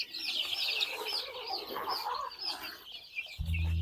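A flock of farm chickens clucks and chatters eagerly for feed, a busy overlapping mass of calls close by. A low hum comes in at the end.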